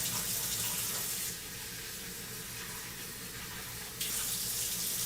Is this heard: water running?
yes